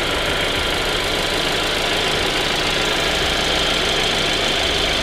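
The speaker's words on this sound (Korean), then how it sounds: "엔진 소리 일정하네요." A Kia All New K7 2.4 GDI car engine runs steadily at idle, a dense, even mechanical hum with a faint knocking texture and no talking.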